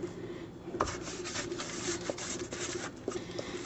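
Hands rub seasoning onto raw chicken pieces for oven-baked ranch chicken, a soft, close, continuous rasping and patting with a few light taps.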